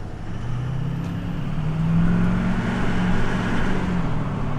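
A Chevy truck fitted with a cheap knockoff turbo accelerates hard, its engine drone rising steadily in pitch as boost builds, loud and continuous from inside the cab.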